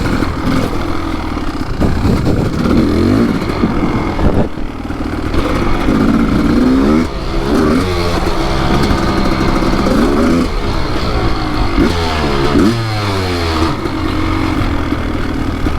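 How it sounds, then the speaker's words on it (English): A Kawasaki KX dirt bike engine runs on a mountain single-track trail with a rough, loud, continuous buzz that rises and falls as the throttle changes, close up and without speech. "Bike sounds a little gunked up."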